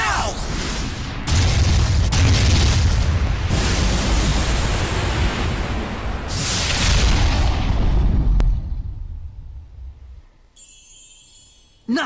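A loud cannon blast in the video game Tales of Zestiria, a heavy booming explosion that roars across the first eight seconds before decaying into a rumbling tail, with faint game sounds afterward and no talk.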